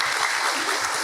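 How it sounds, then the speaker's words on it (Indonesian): A brief burst of audience applause at a religious talk, a thick, steady patter of many hands clapping together, with no single claps standing out. "tepuk tangan"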